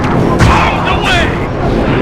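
Bombs explode in Sly 3: Honor Among Thieves, heavy booming blasts that rumble and overlap in a loud, dense burst.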